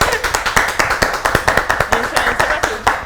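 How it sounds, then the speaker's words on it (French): A studio audience on a French-language television show claps in a quick, steady rhythm, sharp distinct hand claps repeating evenly at close range with loud, consistent strength. "Applaudissez pour la production qui a beaucoup cotisé."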